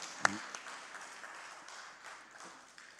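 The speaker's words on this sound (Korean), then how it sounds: "박수로 우리 영광 돌립시다 한번요." Congregation applause during a Korean church worship service after a hymn, a faint, diffuse patter of clapping in a reverberant room, with one sharper clap near the start.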